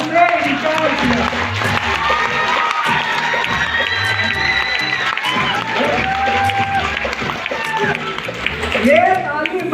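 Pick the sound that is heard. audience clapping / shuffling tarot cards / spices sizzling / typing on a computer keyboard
audience clapping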